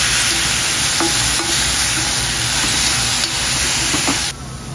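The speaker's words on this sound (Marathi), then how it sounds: "कांद्याबरोबरच मी इथे कढीपत्ता टाकते, कढीपत्ता पण छान भाजून होईल कांद्याबरोबरच।" Onions and curry leaves fry loudly in a pan for prawn Malvani masala, a dense close sizzle with occasional soft stirring taps, no talk.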